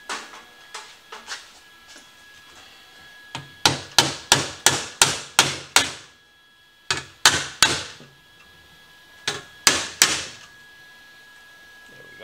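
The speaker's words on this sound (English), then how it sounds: "I'll have to bend with the hammer just a little bit" Sharp metallic hammer blows bending a 1951 Dodge core support ring out in quick rhythmic bursts of five or six strikes, separated by short pauses, loud and close.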